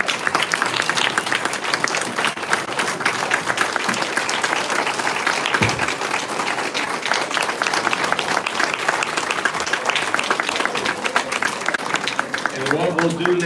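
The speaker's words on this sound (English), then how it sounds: "Stand up and applaud for the town board candidate." A standing audience at a civic candidate forum gives the town board candidates a long, loud, continuous round of applause, with voices murmuring and talking beneath the clapping.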